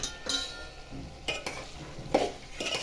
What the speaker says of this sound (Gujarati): તેને ધીમે ધીમે સાંતળતા જવું.